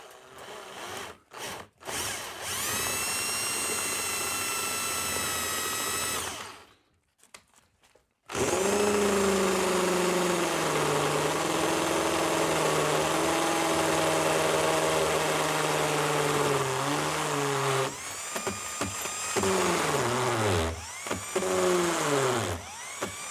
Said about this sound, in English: let's have a look at drilling this hole with this 4mm drill bit